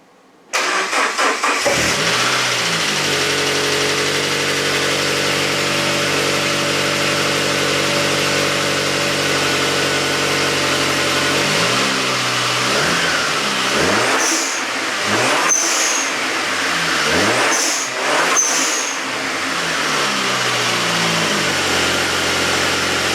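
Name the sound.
SAAB Trionic 7 car engine running with blow off valve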